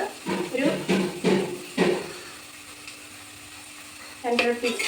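Onion sizzling in a hot pan for a home lunch, with a spoon scraping and stirring it in several bursts, a steady frying hiss underneath and a short pause before the stirring starts again.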